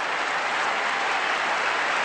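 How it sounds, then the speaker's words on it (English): Arena crowd at the 1986 Brier curling championship final applauding a player as he heads to the hack, a dense, even roar of clapping throughout with no talk over it. "a fine round of applause, and deservedly so, for Russ Howard"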